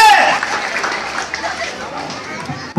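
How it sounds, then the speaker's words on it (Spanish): A crowd at a lively evening event applauds and cheers in a dense, continuous roar of clapping and voices, loud and close throughout. "aplausos para el Todopoderoso"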